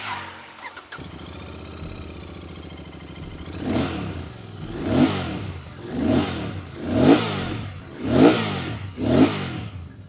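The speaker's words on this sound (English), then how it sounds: "This is an engine that rewards you for revving it." A motorcycle engine idles steadily, then revs repeatedly in rising and falling bursts, about six loud throttle blips in a regular rhythm, close by.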